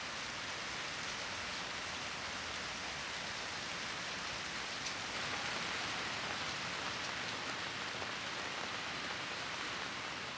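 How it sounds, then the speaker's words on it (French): Steady June rain falls in Kyoto, an even, close, dense hiss of drops pattering on surfaces without pause for the full stretch. "Le mois de juin est la saison des pluies à Kyoto."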